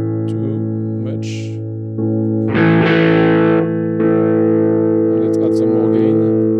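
Overdriven electric guitar played through an amp simulator with the gain raised, loud and sustained with harmonically rich distorted chords, a brighter burst midway and reverb tails, heard alone without talk.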